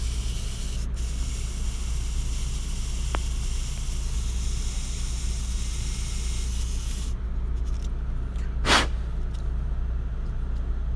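A hand file rasps steadily against a spinning Mini 4WD gear to trim it thinner, giving a continuous close, even hiss with a brief sharper scrape near the end.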